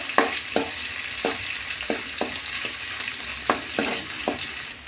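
Onions frying in oil for an urad dal chutney, a steady close sizzle broken by a quick series of spoon stirs scraping the pan at a brisk, uneven rhythm.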